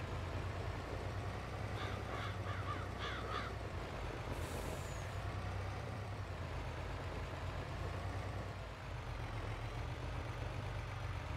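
Farm truck rumbling at low revs across a snowy soybean field, a steady close engine drone with crows cawing briefly in the background.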